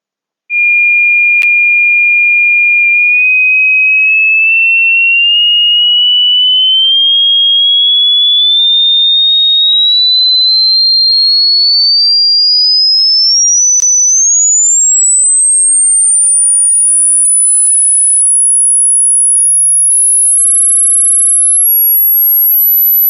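Pure sine test tone sweeping slowly and steadily upward in pitch for over twenty seconds, loud and continuous with no pauses and no voices.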